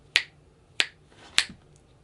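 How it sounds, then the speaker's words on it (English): Three crisp finger snaps spaced about half a second apart, close and loud in an otherwise quiet room. "I'll be quiet for a second and snap my fingers"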